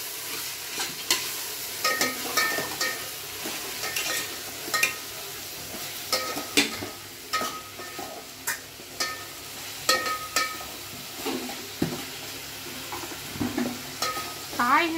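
Chopped vegetables sautéing in hot oil for veg biryani, a steady close sizzle broken by repeated scraping and clanking stirs of a ladle against the pot.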